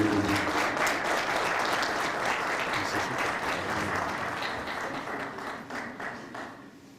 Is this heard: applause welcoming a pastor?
yes